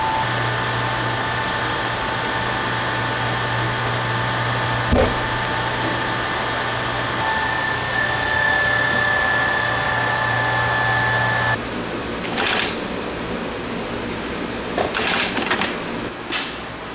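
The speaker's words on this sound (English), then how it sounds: "we're going to be using the MACB 555 for the side seams." An MACB 555 sew-free bonding machine bonds side seams: a steady, continuous mechanical hum with a faint tonal whine runs throughout, and sharper clicks and taps appear near the end.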